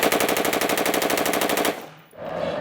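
A fully automatic weapon fired by a police tactical support team lets off a rapid, sustained burst of shots for almost two seconds, then stops abruptly, leaving a brief echoing tail.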